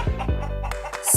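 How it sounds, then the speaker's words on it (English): A chicken clucks in a short run of throaty, rhythmic calls, close and fairly loud, ending with a sharper squawk. "Chicken."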